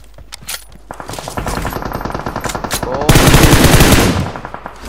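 Rapid automatic gunfire from the mobile shooter PUBG Mobile rattles loud and close, building into a dense sustained burst of shots, with faint voices of players underneath.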